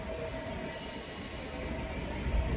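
A train departs Manchester Piccadilly station, its wheels squealing in a high sustained screech over a heavy rumble that fills the platform, loud and close.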